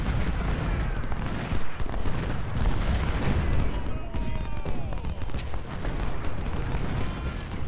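A Civil War battle in the strategy game Ultimate General Civil War rumbles with massed musket volleys and booming artillery, a dense, continuous din of gunfire with deep blasts throughout.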